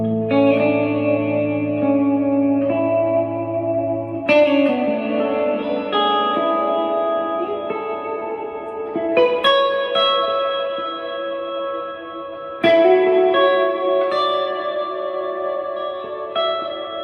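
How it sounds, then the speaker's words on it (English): Electric guitar, a Squier Classic Vibe Jazzmaster, played through a Ventris dual reverb pedal set for big ambient reverb, sustained chords and notes ringing out into long washy tails with several fresh strums. "let's add some reverb. I have a Ventris dual reverb on here for some really big ambient reverbs."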